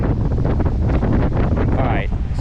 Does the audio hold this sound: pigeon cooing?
no